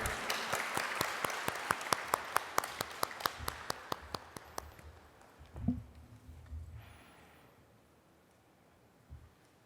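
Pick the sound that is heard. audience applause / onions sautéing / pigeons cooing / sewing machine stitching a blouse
audience applause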